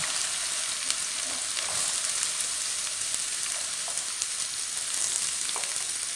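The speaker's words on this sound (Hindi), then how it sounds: "ओवन में हम अदरक लहसुन का पेस्ट डाल के हल्का सा फ्राई कर लेंगे।" Ginger garlic paste fries in a hot pan with a continuous close sizzle and crackle, steady throughout with faint spatters and no talking.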